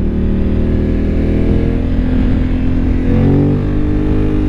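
A motorcycle engine drones continuously and loudly, steady cruising in the Serra da Estrela mountains with a slight rise in revs, wind rumble mixed in.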